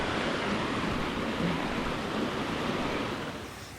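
Steady rushing of a flowing stream at a hiking-trail crossing, a broad continuous splashing hiss close by, fading slightly at the end, with no voices.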